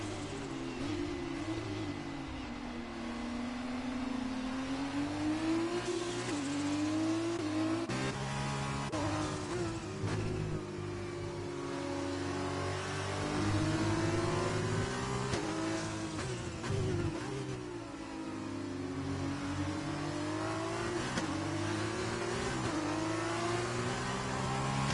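F2 race cars in a racing video game rev continuously through a wet, rainy race start, with layered high-pitched engine whines rising and falling through gear changes, loud and steady for the whole stretch with no talk.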